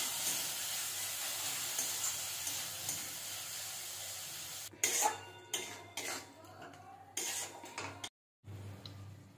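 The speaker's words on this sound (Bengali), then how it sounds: "সব কিছু ভালোভাবে আবার ভেজে নেব।" Ginger, garlic and green chili paste frying with chopped tomato in a pan, a soft steady sizzle that turns into bursts of spoon scraping and clattering against the pan, then a short silence before the sizzle resumes.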